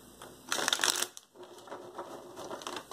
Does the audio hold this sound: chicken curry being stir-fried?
no